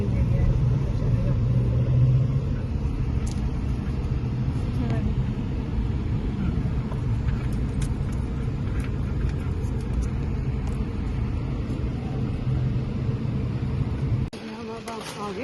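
A car drives at low speed through a parking lot, its steady engine and road rumble continuing from start to finish before dropping off near the end.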